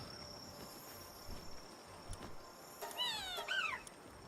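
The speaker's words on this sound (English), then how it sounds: "We have a couple of cats." Cat-like creatures in Palworld meow in a few short, high, wavering calls near the end, quiet against a faint outdoor ambience with a steady insect-like hum.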